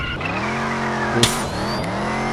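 A white and blue Bumblebee car drives with a strained, revving engine hum and tires skidding, including a sharp burst of squeal or impact midway, steady and close.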